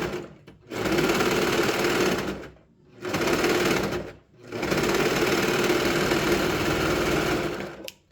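Domestic sewing machine stitching a dog sweater, running in three steady motorized bursts separated by short pauses, loud and close with no talk.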